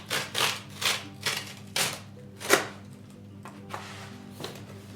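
Blade slicing through a guitar's cardboard shipping box, a series of rhythmic scraping cuts and rasps close up, with a steady low hum underneath.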